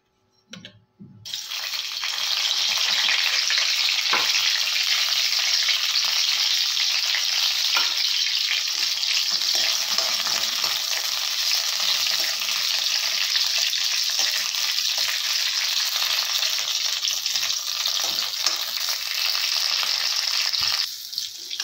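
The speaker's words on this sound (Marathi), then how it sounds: "आपण गॅस चालू करून तेल तापायला ठेवलंच होतं। तर आपण या मिरच्या ज्या आहेत त्या भाजून घेणार आहोत।" Green chillies sizzle steadily in hot oil in a pan for a Maharashtrian green chilli and garlic thecha, a loud continuous hiss and crackle close by that starts abruptly and holds with no talking.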